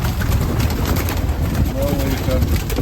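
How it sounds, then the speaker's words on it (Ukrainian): Pigeons being fed coo softly nearby against a low, steady rumble of background noise, with faint voices in the mix. "Сьогодні ми прийшли покормити голубів, да? Голуби."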